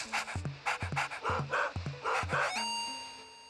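A dog panting in the video game Luigi's Mansion, quick repeated huffing breaths in a steady rhythm over game music, ending with a sustained chime-like tone.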